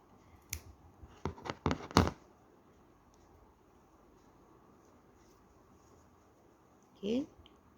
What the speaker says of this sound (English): Cut off this yarn here.